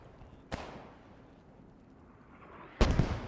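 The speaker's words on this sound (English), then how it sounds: "Mortars going down, a mix of smoke and heavy ordnance." Two heavy mortar explosions land in the Post Scriptum video game, a sharp boom early on and a louder, closer-sounding blast near the end, with a low rumbling battlefield bed between them.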